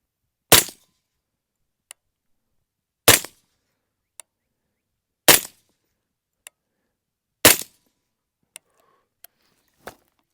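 Suppressed shots from an Aero Precision M5 AR10 rifle fitted with a Dead Air Sandman S, fired outdoors in the heat: four sharp, loud reports spaced a couple of seconds apart, with faint brief ticks in between.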